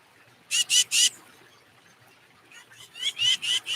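A tufted titmouse gives two bursts of harsh, nasal scolding calls, three quick notes, a pause, then a longer run of four or five, fairly close and clear.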